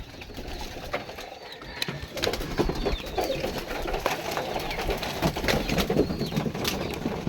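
Pigeons cooing in a coop: several overlapping low throaty coos, close and fairly loud, with occasional rustling and wing movement.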